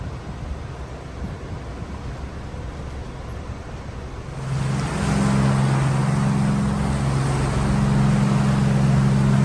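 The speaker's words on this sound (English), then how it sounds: "just hear those Detroit's humming, those 671 NAs just humming along" Wind and water noise give way to the steady low drone of a yacht's Detroit Diesel 6-71 naturally aspirated engines humming off the El Salvador coast, constant and fairly loud.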